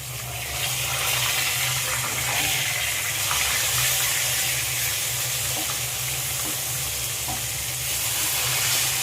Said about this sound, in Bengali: এক পিঠ ভাজা হয়ে গেছে, আমি আর এক পিঠ ভালো করে ভেজে নেব।